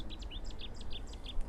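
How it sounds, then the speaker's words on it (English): A Cetti's warbler sings beside a small riverbank stream in a wildlife-friendly French town, giving a loud, close burst of rapid, explosive chirping notes in quick succession. "Chetty's warbler again seems to be following me, I think."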